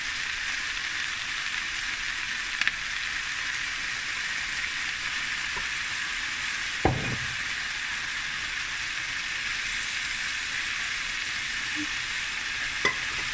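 Chicken frying in a pan with oyster sauce and soy sauce, a steady close sizzle throughout with a few soft scraping stirs and light clinks of a utensil against the pan.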